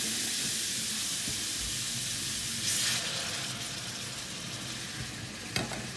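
Half a ladle of warm base gravy sizzles in a hot frying pan on an electric hob with garlic, a steady bubbling hiss that flares briefly with stirring and a light clink near the end.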